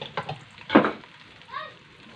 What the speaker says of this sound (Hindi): भिंडी को हम तकरीबन थोड़ा सा फ्राई करेंगे।